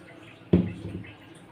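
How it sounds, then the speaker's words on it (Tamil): Water is poured into a spiced pani puri mixture, a sudden splash followed by a short, fading liquid trickle, close and moderately loud. "தேவையான அளவு தண்ணி சேர்த்துக்கலாம்."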